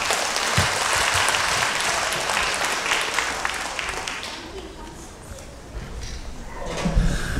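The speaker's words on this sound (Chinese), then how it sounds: "掌声欢迎。" An audience at a 2019 Montreal Chinese New Year gala gives sustained applause to welcome performers, the clapping continuing throughout and thinning slightly toward the end, with a voice speaking faintly over it.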